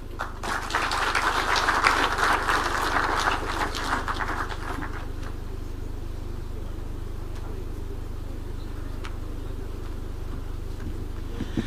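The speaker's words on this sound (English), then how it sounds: "Another round of applause for CS." Crowd applause at an outdoor Kenyan government investment event, a dense clapping wash loudest in the first few seconds and then fading into steady background noise with low rumble.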